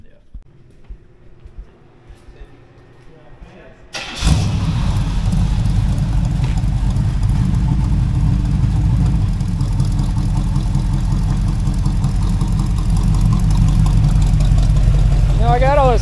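A Chevrolet El Camino V8 with a big racing cam fires up after a quiet stretch and settles into a loud, steady, lopey idle close by, running evenly on all eight cylinders.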